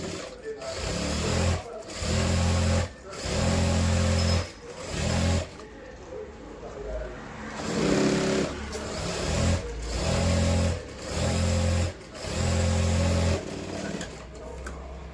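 Stitching a cross-cut blouse, a sewing machine runs press stitches onto the lining in repeated short bursts of whirring, close and fairly loud, separated by brief pauses with faint handling noise.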